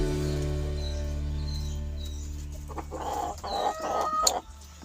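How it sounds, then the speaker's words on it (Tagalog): A chicken kept inside a goat and pig pen clucks a few times toward the end, close by, over a steady low mechanical hum. "may manok pa sa sulod, may manok sa loob pala."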